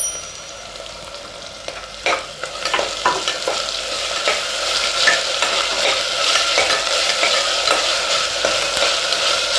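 Ginger garlic paste and salt sauté in a pan for mutton paya (attukal paya), giving a steady close sizzle with stirring scrapes and clicks throughout, no voices.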